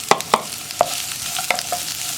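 Onion hits a hot pan for a pumpkin curry and fries with a soft, steady sizzle, broken by several sharp spatula clinks against the pan.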